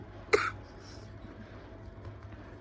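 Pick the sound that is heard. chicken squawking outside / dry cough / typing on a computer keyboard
dry cough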